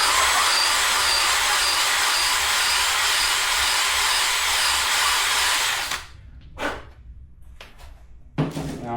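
A power tool runs continuously and loud, shaping and reaming a fishing rod grip, then cuts off near the end, leaving a few short bursts of grinding contact.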